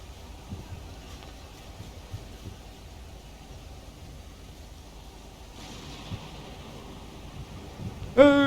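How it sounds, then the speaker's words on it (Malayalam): Heavy rain and wind in an island-exploration video game, a steady soft wash of noise with a brief louder gust partway through and a sharp burst at the end, heard alone at moderate level. "നല്ല കാറ്റും മഴയും കേസ്."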